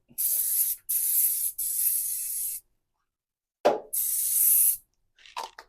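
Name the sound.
spraying glue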